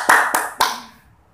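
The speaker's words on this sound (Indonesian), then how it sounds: "Tepuk tangan untuk Bu Yuni." At an Indonesian teachers' discussion session, people clap for a presenter in three sharp, evenly spaced claps. The last one rings out and fades into quiet.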